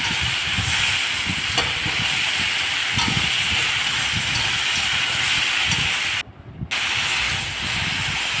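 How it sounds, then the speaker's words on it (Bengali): Mixed vegetables being sautéed in a kadai for a Bengali ghonto, with a steady hiss and sizzle running throughout and a brief drop near the end. "সবজিগুলো এইভাবে কষিয়ে নিচ্ছি।"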